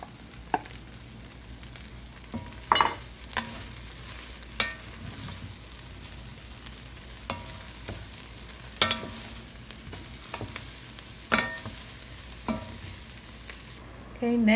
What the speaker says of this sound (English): Next I'm adding the mushrooms, and I'm going to let that cook for about 5 to 7 minutes.